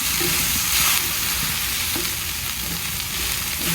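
Okra and salt fish fry in a small amount of oil, giving a steady close sizzle with occasional stirring scrapes and soft knocks throughout.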